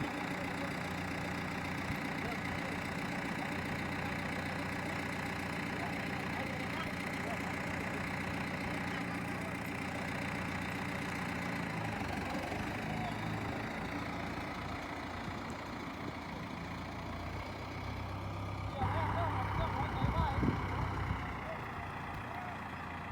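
A Massey Ferguson MF4708 tractor with a 4,400 cc four-cylinder turbo diesel idles steadily close by in a sugarcane field, a continuous low rumble with a brief rise near the end, with speech over it.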